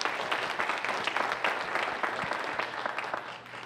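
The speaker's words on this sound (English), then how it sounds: "You can give her a round of applause." Steady, dense audience applause at a science of reading summit honoring Nancy Mendez, CEO of Starting Point, sustained and fairly close throughout with no talking.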